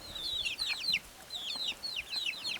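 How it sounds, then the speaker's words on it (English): Soft, rapid clucks and chirpy peeps from small free-range chickens come in quick bursts, close by, with no talking. "They are very cute little chickens."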